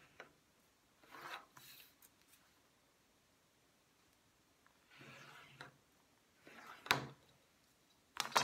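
A bone folder scores fold lines into paper for a rectangular scrapbook box card, giving several quiet, brief rasping strokes spaced apart by pauses, with a sharper scrape near the end.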